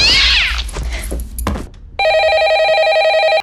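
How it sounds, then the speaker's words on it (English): A house phone rings with a steady electronic tone lasting over a second, loud and close, preceded by other noise at the start. "the house phone suddenly ringing"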